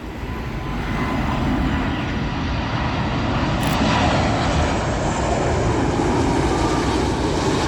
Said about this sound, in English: A330 arriving in from Istanbul.